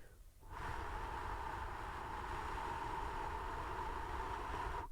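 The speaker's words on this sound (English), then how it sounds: "as far as fan noise is concerned" A constant, even whooshing hum of the cooling fan of a Wacom Cintiq Pro 27 pen display starts after a brief pause and holds steady at a low, close level.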